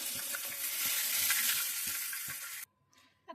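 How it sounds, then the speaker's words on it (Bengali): Steady, loud sizzling of catla fish frying in hot oil with crackling pops, cutting off abruptly near the end before a brief clatter. "আমার মাছগুলো ভাজা হয়ে যাচ্ছে"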